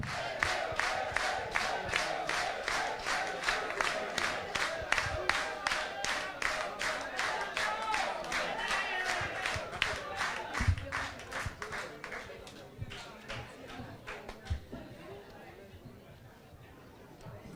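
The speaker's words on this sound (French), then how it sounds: "alors déjà vous applaudissez, je n'ai même pas donné les résultats" An audience at a municipal council investiture in Basse-Terre claps in loud rhythmic unison, beat after beat, with crowd chatter underneath. The clapping thins and fades toward the end.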